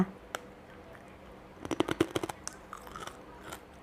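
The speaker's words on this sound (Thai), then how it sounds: "หมูกระจกเขาก็คือกรอบมาก" Crispy Thai pork crackling snack with kaffir lime leaves and herbs, bitten and chewed close up: a quick burst of sharp crunches followed by a few softer chewing crackles in a quiet room.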